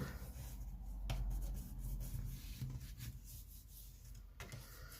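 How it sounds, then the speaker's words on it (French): A bone folder rubs and creases paper for a scrapbook album page, giving close, quiet scraping strokes with a few sharp taps. No talk is heard over it. "Voilà, je prends mon plioir."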